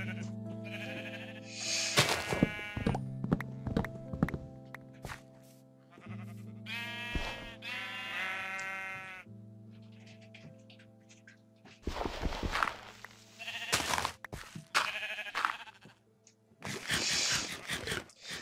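Sheep in a video game bleat repeatedly in a valley setting, several wavering calls at varying pitch spaced over the clip, with footsteps and a steady low game tone underneath.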